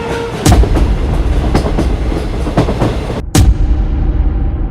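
A train rolls along the tracks with loud, steady rumbling and regular clacks as the wheels pass over rail joints.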